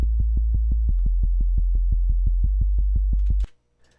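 Synth sub bass with an envelope synced to tempo, pulsing in steady, evenly spaced low thumps, about twenty in a row, then stopping suddenly.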